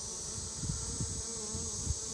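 A swarm of bees buzzes continuously around a person's shirt and pants, a dense steady drone with short louder swells as individual bees pass close.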